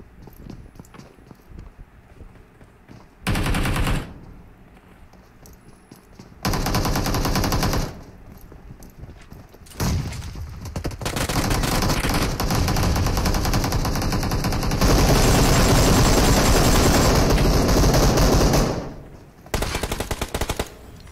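Bursts of Uzi submachine gun fire in a BGMI battle royale match, several loud rapid volleys separated by quieter gaps, the last long burst sustained for several seconds, with footsteps and game ambience in between.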